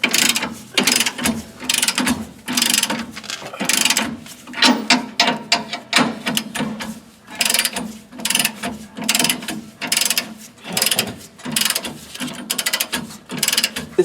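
Impact wrench tightening helper spring bolts on a 1992 Ford F-150 near the muffler tailpipe, a dense run of rapid ratcheting hammer bursts that pulse in short repeated spells, close and loud with no talk.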